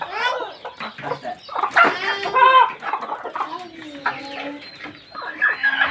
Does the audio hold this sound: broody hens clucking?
yes